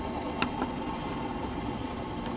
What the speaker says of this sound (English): The noise you can hear there is the water coming back from the panel.